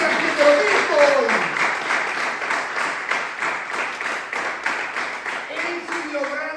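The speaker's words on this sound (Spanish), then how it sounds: "¿Le puede dar un aplauso a Jesucristo?" A church congregation claps during a sermon, giving rhythmic, fairly loud applause with distinct beats; a voice sounds briefly near the start and again at the end.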